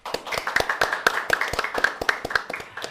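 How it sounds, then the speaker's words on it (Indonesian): Audience clapping for the acting governor of Bangka Belitung at a podcast event: a short, lively burst of hand claps from a modest group, fast and slightly uneven, fairly close. "Beri tepuk tangan."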